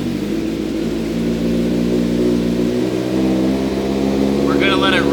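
A Kawasaki Z900 motorcycle idles steadily in a garage after an oil change, a close, even low drone that holds for the whole stretch, with a short voice heard near the end.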